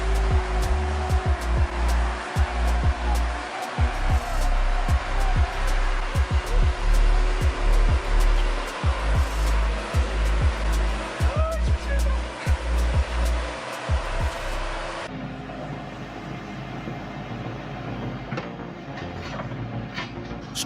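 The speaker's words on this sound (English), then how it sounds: "Stubborn roots don't stand a chance against the JCB3CX. With raw power and precision, it rips through stumps" A JCB 3CX backhoe rips through tree stumps with a loud, continuous rough roar broken by repeated heavy thuds and cracks, then drops to a lower steady engine rumble near the end.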